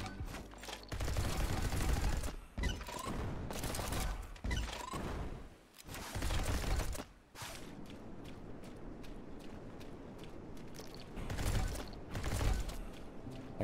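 The Purify rifle fires in the video game Neon White. Rapid, fairly quiet bursts of gunfire come in clusters, broken by short gaps, with running footsteps and thuds between them.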